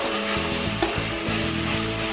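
Ginger garlic paste fries in a hot pan for a mutton curry, giving a constant close sizzle with light crackle and an underlying steady hum, no voices present.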